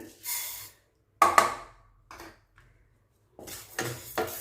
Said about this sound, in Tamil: இப்போ இதை கொட்டிட்டு நம்ம பாசிப்பருப்பை வறுத்துக்கலாம்